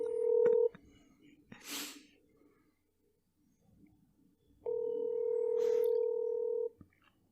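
Phone call in progress with touch-tone dialing beeps followed by a steady ringback tone, two distinct tone bursts with a faint rustle and brief noise between them, close and clear.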